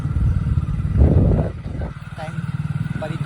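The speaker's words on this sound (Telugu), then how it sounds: "రోడ్ మీద ఎవ్వరు లేరు, మేము బైక్ మీద తిరుగుతున్నాము" A motorcycle rides along an empty road at night in the rain near Ibrahimpatnam, its engine rumbling steadily up close under and between bursts of talk.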